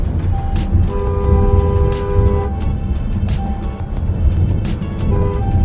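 A Range Rover Evoque driving on a road makes a steady, loud engine and road rumble throughout, with brief tonal horn-like toots over it.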